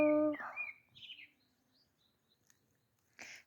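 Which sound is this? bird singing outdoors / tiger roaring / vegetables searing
bird singing outdoors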